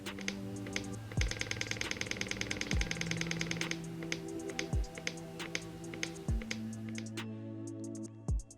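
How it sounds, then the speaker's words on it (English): A KTM TPI motorcycle's oil pump priming, ticking and whirring in rapid mechanical clicks, with periodic low thumps and a steady hum nearby. "The oil pump will start pumping out oil."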